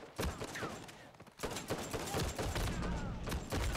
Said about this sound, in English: Fires pretty fast. This is the grenade launcher.